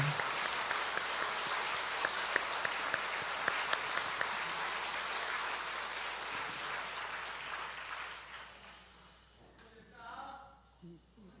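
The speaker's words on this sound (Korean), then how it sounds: "우리 선생님들 위해서 박수 한번 할까요?" Church congregation applauding for their teachers during a Sunday worship service, a loud sustained round of clapping that fills the room for about eight seconds, then fades out as a voice speaks briefly at the end.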